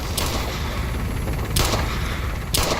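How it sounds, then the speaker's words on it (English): Three loud, close gunshots ring out at roughly one-second intervals as weapons are test-fired in the video game Operation Flashpoint: Red River, each a sharp crack over a constant rumbling background. "Now I want you all to test fire those weapons."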